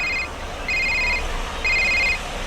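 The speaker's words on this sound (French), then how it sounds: "Soudain, la sonnerie du portable de Vincent retentit." A mobile phone ringtone plays three short repeated electronic bursts, evenly spaced and clear over a low background hum.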